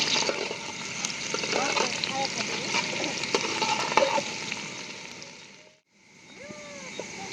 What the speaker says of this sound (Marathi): कांदा आता चांगला तळून घेतला